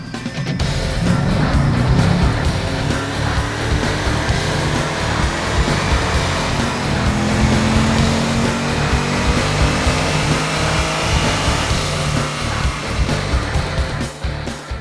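A 2010 Camaro with an SCT tune roars under full load on a dyno, a loud, sustained, dense engine drone that holds steady for the whole run without any voices.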